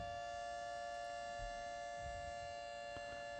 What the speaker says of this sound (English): if you're hearing these sirens, you need to be in shelter.